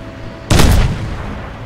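A single loud grenade blast in the shooter game Crysis, a sudden booming burst with a short rumbling decay, close and powerful, no voices over it.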